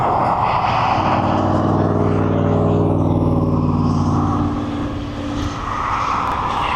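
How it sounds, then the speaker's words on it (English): A Boeing 777 arriving from Cincinnati lands at East Midlands Airport with a loud, steady jet engine roar, a sustained low drone with rising and falling tonal whine that dips briefly near the end. "So we'll get this 777 in from Cincinnati, we'll get it landing, taxiing up"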